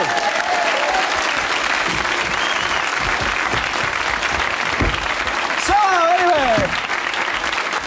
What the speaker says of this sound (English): big round of applause after Zoe